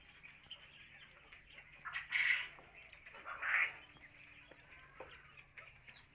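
King quails on a Bangladeshi quail farm give two short, shrill calls a second or so apart, heard close over a quiet, steady background hum with no talking.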